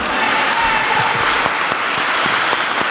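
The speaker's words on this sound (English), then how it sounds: "Clap it up for yourself." Crowd applause at a community gathering in San Francisco's Bayview about police brutality, a dense, steady clapping from many hands that stays loud and even throughout, with a few sharper claps standing out.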